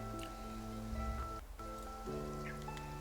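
Steady rain in the Genshin Impact game world, a continuous soft patter of drops heard alone over a low sustained musical drone, with a brief dip in the middle.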